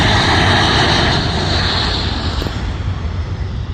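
A military jet coming in to land over a base, a loud, steady engine roar with broad hiss that gradually fades as it passes.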